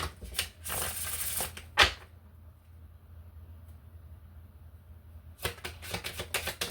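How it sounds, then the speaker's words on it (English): Tarot cards are riffled and shuffled at close range in quick crisp bursts. Longer flurries alternate with quiet gaps and a couple of sharp snaps, with no voices over them. "Shuffle that one more time."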